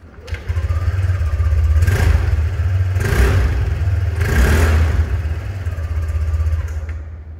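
A 2021 Yamaha NMAX 155 scooter engine runs steadily with a low hum and rises in several brief revs, close and loud, with no talking.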